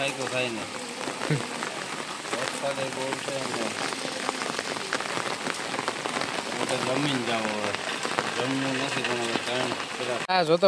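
Heavy rain pours onto waterlogged, flooded ground in the Ghed area of Gujarat, a steady dense hiss throughout with people talking over it.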